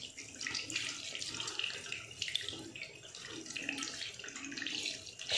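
Tap water runs steadily and splashes while the left foot is washed during wudu, a close, continuous flow with shifting splatter and no talking.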